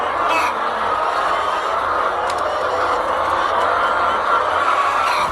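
Tens of thousands of chickens packed in a large poultry farm shed, a dense continuous flock murmur of clucking from beginning to end, steady and fairly loud, with no one talking.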